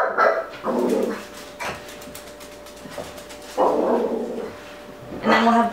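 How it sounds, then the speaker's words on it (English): A dog barks in short bursts, a couple of sharp barks and a whiny yelp, spaced apart with quiet gaps between. "And then we'll have Buster barking in the background from time to time."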